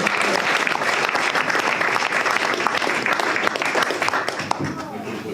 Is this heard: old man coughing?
no